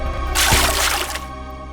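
A splash of cold water thrown over a person, a broad bright burst of splattering and dripping lasting about a second, loud and close over a steady low background hum.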